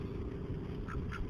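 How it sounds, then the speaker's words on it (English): Ducks quack in two short bursts near the end, faint against steady low outdoor background noise. "Look at these ducks."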